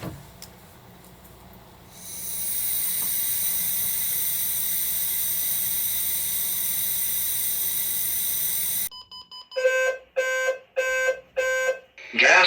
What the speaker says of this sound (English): hold it up to the sensor, and it'll trip the alarm